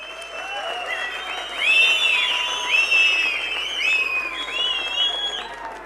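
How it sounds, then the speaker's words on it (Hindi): A crowd at a Congress political rally in Dharamshala welcomes a speaker, with clapping under loud, wavering whistles that swell and fade in overlapping runs across the whole stretch. "तो जोरदार तालियों के साथ भाई सुधीर जी का स्वागत, अभिनंदन।"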